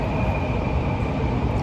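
Inside a moving train, a steady low rumble of wheels and carriage with a faint constant whine above, continuous and unbroken, with no voices.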